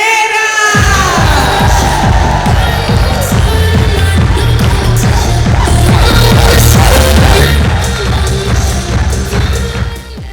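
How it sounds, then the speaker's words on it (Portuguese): An audience greets Sueli Nogueira at a Nutrição & Seytú training event with loud, sustained clapping and crowd noise that holds for several seconds before easing off. "Então eu gostaria que vocês recebessem, olha aqui para mim, com uma forte salva de palmas"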